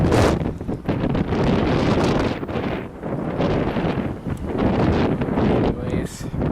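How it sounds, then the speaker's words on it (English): Strong wind gusts buffet the microphone during an outdoor walk to work, a loud continuous roar that swells and dips, with a voice partly audible beneath it. "that wind, some kicking ass wind"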